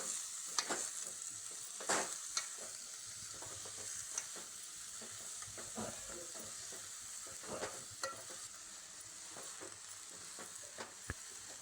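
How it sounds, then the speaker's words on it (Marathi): Dry fenugreek and moong vegetable being stirred in a pan, a steady soft sizzle broken by repeated scraping and clinking of a spoon against the pan, fairly close and moderate in level, with no talking. "त्यामध्ये मेथीची सुकी भाजी आपण मिक्स करूया."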